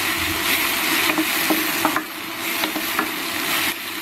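Figs sauté in a pan for fig chutney, giving a steady sizzle broken by repeated scraping stirs, close and fairly loud with no talk.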